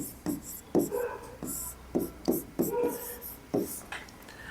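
Someone writes on a board with a series of quick, scratchy strokes in short rhythmic bursts, close by and fairly quiet.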